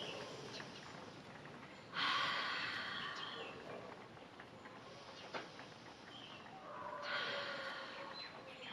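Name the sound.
inhaling through the nose, exhaling through the mouth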